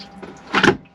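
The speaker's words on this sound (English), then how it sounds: "so we've had the water in the loo quite a while now, so we'll dump that now" A motorhome cassette toilet draining water into its cassette: a brief, fairly loud gurgling rush that swells and fades within a split second, close up against a quiet background.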